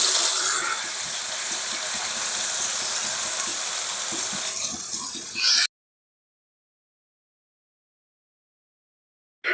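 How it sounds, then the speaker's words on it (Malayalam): Shawaya chicken sizzles and spits steadily in hot oil in a non-stick pan for about five seconds, a loud close crackle, then everything goes quiet. "നമ്മള് ഷവായ കുട്ടന്മാരെ പൊരിക്കാൻ പോകട്ടോ"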